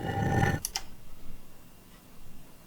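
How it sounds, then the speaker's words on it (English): Dry impact sample from a hits toolkit with no effects, a single short thump and click near the start, then a faint decaying tail and low background noise. "This is a sound sample that you can find in the Impacts and Hits toolkit on my website"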